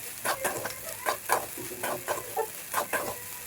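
Sabudana khichdi with crushed peanuts stirred in a pan over low heat, a steady run of soft scraping strokes with a faint sizzle underneath, close and fairly quiet, with no talking.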